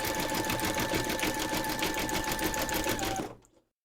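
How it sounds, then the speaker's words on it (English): Embroidery machine satin-stitching around a teddy bear's nose in silver thread, a steady close mechanical whirr with fast regular needle pulses that runs for about three seconds and then stops abruptly. "Load your thread colour for the satin stitching around the nose into your machine, and then stitch round number 12"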